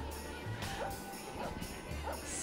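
Dogs from the Dog Scouts of America at a Christmas parade give a few short barks and yips amid open-air crowd noise, with voices talking over them.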